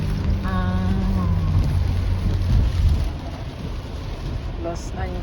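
Steady heavy rain falls in Los Angeles, a continuous close wash of drops with low rumbling underneath and a voice speaking over it early on.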